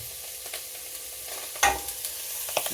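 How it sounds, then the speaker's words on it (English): Alligator bites and greens stir-frying in a pan, a steady low sizzle with scattered clinks and scrapes of stirring and one sharper clatter partway through; no voices. "I put the greens back in, added the stuff I already did, got it all stir fried, swinging it around"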